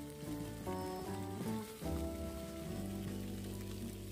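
Steady, dense sizzle of fish frying in hot oil with ginger in a pot, a continuous crackling hiss under a faint tonal hum, with no voices.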